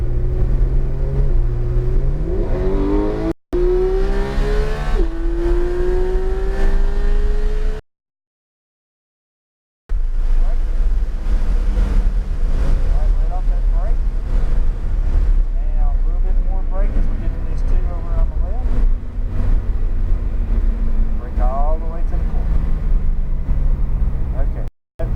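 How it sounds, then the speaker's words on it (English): A Porsche accelerates hard on a race track, its engine note rising in loud sweeping climbs heard from inside the car, with a few brief gaps and a driver talking between pulls. "accelerate down the straightaway"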